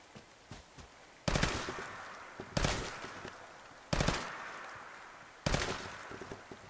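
Four loud bursts of rapid gunfire from Fallout 4, evenly spaced about a second and a half apart, each a sharp crack fading into a brief rattling tail, with quiet background between.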